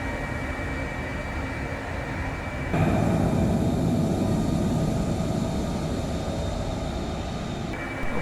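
An F-35B jet in Microsoft Flight Simulator 2024 taxis on the ground, its engine a steady roar that jumps louder and fuller partway through as throttle is added, then settles back slightly near the end.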